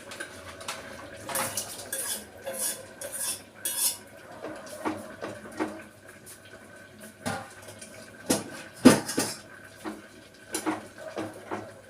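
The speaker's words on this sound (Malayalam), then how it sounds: "ഒന്ന് മാങ്ങയും ചക്കക്കുരും കൂടി ഒന്ന് യോജിപ്പിച്ചോട്ടെ" Cooked mango being stirred into a jackfruit seed curry in a pot, with scattered scrapes and clinks of a spoon against the vessel and a few louder knocks, fairly close and with no talk.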